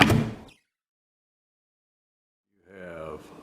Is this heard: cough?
no